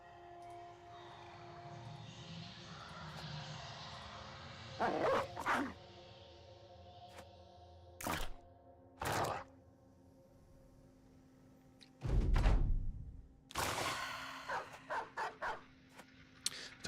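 A war dog barks and snarls in a fight in the video game Battle Brothers, with scattered bursts of barking and combat noise over a steady background hum.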